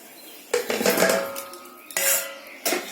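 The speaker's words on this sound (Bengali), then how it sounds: "আর এই ভাজা আলুগুলো আমি এবার এতে দিয়ে দেবো।" Fried potatoes tumble into a metal pot of mutton curry with a few clattering, scraping bursts, close by and fairly loud.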